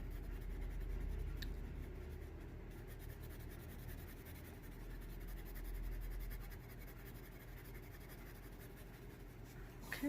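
Colored pencil strokes on paper, a steady scratchy shading sound running continuously and close, pressed hard along the edge of an orange area while coloring a forest mandala, with no voices.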